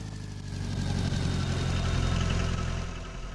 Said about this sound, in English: Let's just drive around the bus and park the car.